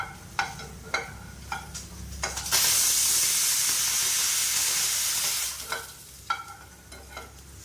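A single drop of oil for tempering in a small pan while making paruppu podi: a few sharp stirring scrapes, then a loud burst of hissing sizzle for about three seconds, followed by more scrapes.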